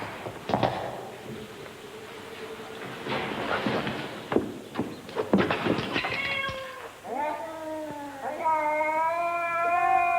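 A pet cat meows several times, drawn-out and plaintive calls growing louder toward the end, close to the listener with light movement and footstep sounds between calls.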